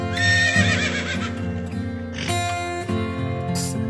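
A horse whinny from a children's alphabet song rises over bouncy backing music, one clear neigh near the start with light hoof clip-clop accents following.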